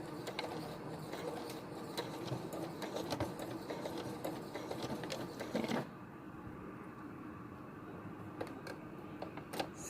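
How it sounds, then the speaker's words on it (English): A sewing machine stitches a fabric face mask with a rapid, close mechanical whirring that runs for about six seconds, then stops, leaving quieter handling clicks and rustles. "you just sew a line right there"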